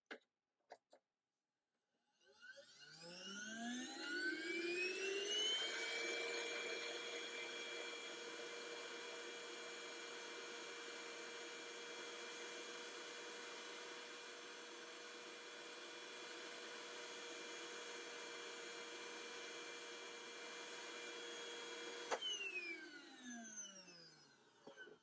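Giraffe Tools 12V car vacuum with a soft start, its motor whine rising smoothly in pitch as it spins up, then holding a steady drone for a long stretch before winding down, close and fairly quiet.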